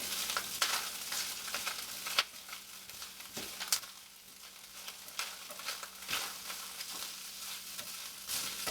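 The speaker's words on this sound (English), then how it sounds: "Just keep stirring it around so it don't stick to the bottom" Hamburger meat browns in a pot with a bright, steady sizzle while a spoon stirs and scrapes the bottom, with occasional sharper knocks and scuffs cutting through the frying hiss, up close and without speech.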